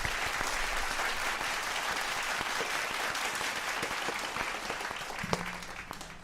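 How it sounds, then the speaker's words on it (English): A live audience or group applauds steadily, with dense continuous clapping that stays fairly loud and even before tapering slightly at the end, accompanied by a faint low hum. "A round of applause to the people."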